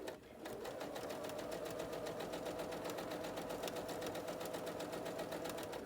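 A sewing machine stitching forward slowly and steadily while piecing a quilt block, a close, continuous mechanical whirr with a fine rapid needle rhythm that runs without pause and no voices.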